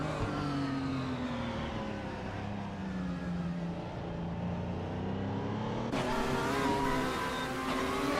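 Race cars, including a 1998 Ferrari F300, roar off the start at Charlotte Legends Oval in a racing video game, engines droning steadily with rising pitch, then a sharper burst of revving as the field surges ahead.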